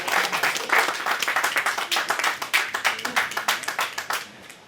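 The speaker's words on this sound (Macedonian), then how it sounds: "Ајде, аплауз им треба, да, веројатно." An audience claps at a book launch stage event, a steady burst of many hands, moderately close, tapering slightly toward the end with no voices over it.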